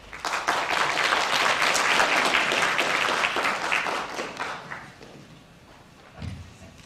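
Sustained audience applause welcoming a speaker to a bioethics lecture, many hands clapping steadily before thinning out, followed by a low thump near the end.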